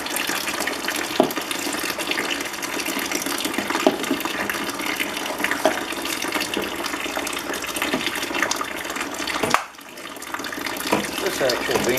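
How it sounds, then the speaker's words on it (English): Water runs steadily into a grain mash for a homebrewed java porter, a continuous pouring gush with faint knocks, broken by a brief pause near the end before the flow resumes. "I might add some more water."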